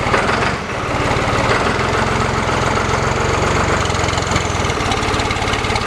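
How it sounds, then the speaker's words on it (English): A New Holland 445 tractor's diesel engine runs close by at a steady rumbling idle, with a faint airy turbo whine riding above the low chug. "Listen to the turbo."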